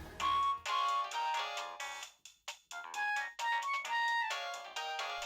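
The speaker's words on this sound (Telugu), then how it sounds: "ఎస్, ఇప్పుడు రింగ్ అవుతుంది." A mobile phone ringtone plays a bright repeating electronic melody during a call scene in a Telugu TV serial, loud and alone with no talking, with brief pauses between phrases.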